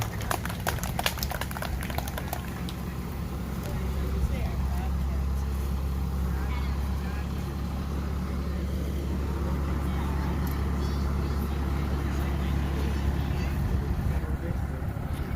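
A Bobcat skid-steer loader hauling a giant pumpkin at a pumpkin festival gives off a steady low engine drone throughout. Crowd chatter and voices run over it, with some brief knocks near the start.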